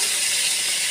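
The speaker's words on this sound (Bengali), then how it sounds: "দেখো পেঁয়াজটা দিয়ে দিলাম, দিয়ে ভালো করে নেড়ে পেঁয়াজটা লাল লাল করে ভেজে নেব" Onion fries in hot oil, a loud, even, close hiss of sizzling that holds steady through the short moment.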